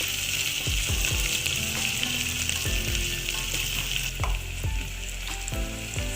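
Onions fry in ghee in a pan over a full flame, a dense continuous sizzle and crackle punctuated by repeated scraping strokes of a stirring spoon, close and loud with no voices.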